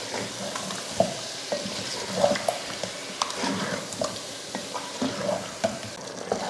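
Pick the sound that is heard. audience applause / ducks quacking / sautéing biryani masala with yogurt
sautéing biryani masala with yogurt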